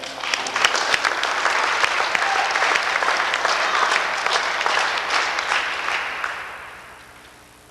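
Audience applause at an award night ceremony, a dense steady wash of many hands clapping that holds loud for most of the stretch, then gradually thins and fades toward the end.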